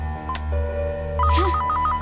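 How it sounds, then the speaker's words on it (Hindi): An electronic phone ringtone chirps in a repeating warbling pattern over a low steady hum, loud and close. "किसका फोन है?"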